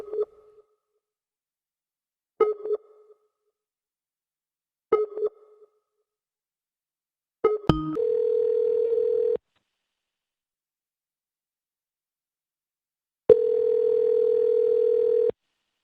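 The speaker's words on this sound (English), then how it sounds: "Hope you're enjoying these dial tones." Telephone call sequence: four short dial beeps spaced about two seconds apart, then two sustained steady tones of a couple of seconds each, loud and clear with no talking.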